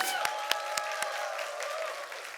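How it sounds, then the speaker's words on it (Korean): A church congregation at a Sunday morning service applauds in welcome, fairly faint scattered claps with a few sharp distinct hits early on, while a sustained organ-like tone rings underneath. "우리 열렬한 박수로 우리 환영하겠습니다"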